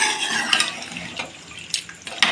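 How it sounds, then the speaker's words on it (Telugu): Water is poured into a pot of simmering raw chicken gravy, giving a close splashing trickle with a few clinks of a vessel or utensil, no voices. "ఈ నీళ్ళు కూడా సరిపోలేదు,"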